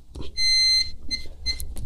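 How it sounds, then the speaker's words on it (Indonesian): A continuity tester buzzer beeps on a faulty power-supply part of a lightning-damaged Samsung UA32N4001AK LED TV: one steady high tone, then two short beeps amid faint clicks of the probes. "Kita cek di sini pakai buzzer saja ya."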